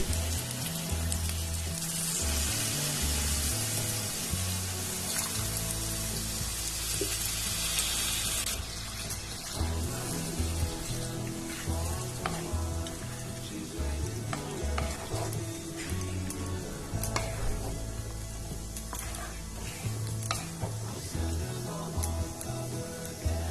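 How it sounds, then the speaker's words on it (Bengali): Water poured into a pan of sizzling chicken while cooking chicken kosha, first a loud hissing burst, then a steady bubbling fry with occasional stirring and scraping, no talking. "এখন চিকেনের মধ্যে কিছুটা জল অ্যাড করে দেব।"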